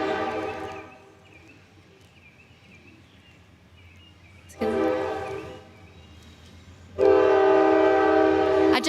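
A train horn blaring at a campus graduation celebration, one long sustained blast, then quiet rumble, then two more loud held blasts later on, with the engine rumbling low beneath.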